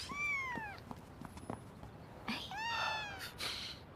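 Cat meowing in a drama scene, two drawn-out plaintive meows, the first longer and falling, the second rising then falling, close and clear with faint background rustling between.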